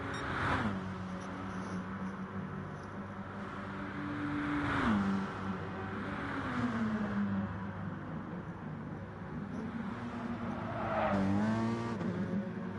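Group B race cars at Mount Panorama in Gran Turismo Sport: engines rev and climb through the gears, downshifting into corners with a few tire squeals as cars pass, steady and moderately loud.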